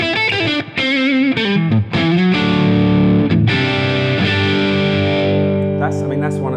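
Loud overdriven electric guitar on the neck pickup of a high-end single-cut guitar, warm, rounded tone, chords and sustained notes ringing out with distortion, played alone.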